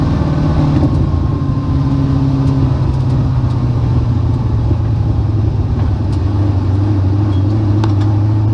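An off-road vehicle cruises along streets with a steady, close engine rumble and drone, holding an even loud level throughout without talk.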